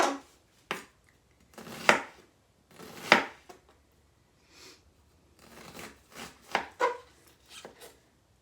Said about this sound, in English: I'm just going to chop these up